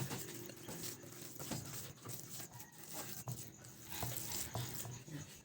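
Soft, quiet stirring of a burger steak mixture with breadcrumbs and milk, with irregular wet patting and scraping strokes in a bowl.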